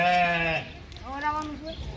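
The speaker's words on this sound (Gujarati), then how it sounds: "હા એ ઘેટા ધવરાવા મળ્યા છે" A sheep bleats up close, one long wavering call followed by a shorter, higher bleat, with faint background noise.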